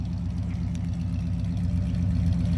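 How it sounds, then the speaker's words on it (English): A 1975 Lincoln Continental Town Car idles with a deep, throaty rumble from an aftermarket exhaust, steady and loud, with a slight rhythmic pulse throughout. "previous owner put on a new exhaust system that's a little bit louder than I would prefer"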